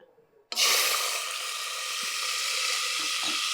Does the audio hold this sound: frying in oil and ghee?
yes